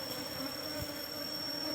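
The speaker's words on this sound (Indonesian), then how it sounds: "nanti dia akan berbondong-bondong masuk ke kotak budidaya ya teman-teman" Bees swarm into a cultivation hive box, making a faint, steady, low buzzing hum heard alone for a couple of seconds.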